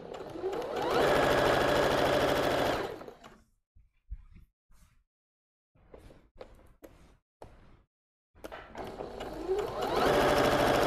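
A sewing machine stitches a ruffled pareo in loud continuous bursts, running steadily for a few seconds at the start and again at the end, with quiet handling clicks and pauses between.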